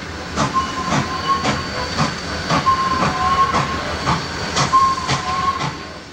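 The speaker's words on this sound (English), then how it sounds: "Here we see a southbound hold up in a siding as a northbound pulls slowly past." Illinois Central trains roll slowly through Markham Yard as a northbound passes a southbound held in a siding, a steady hissing rumble of moving cars with sharp rhythmic clanks and a faint sustained tonal squeal, all without talk.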